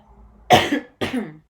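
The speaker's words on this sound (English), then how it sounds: "Maybe clear my throat here." Someone clears their throat twice, two short rough bursts close to the mic separated by a brief pause, otherwise quiet.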